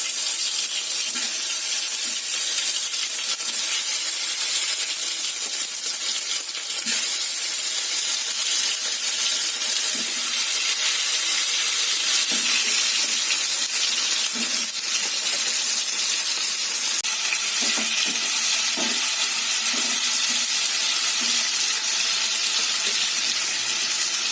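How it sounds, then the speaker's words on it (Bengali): A steady, loud hiss of hot oil frying a paste of garlic, ginger, green chilli and mango, continuous throughout with occasional soft knocks and clinks. "তেলটা গরম হয়ে গেছে এবার আমি এগুলো ভেজে নেব"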